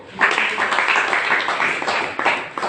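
A church congregation clapping together in a dense, steady burst of many hands, loud and continuous throughout with no voices standing out.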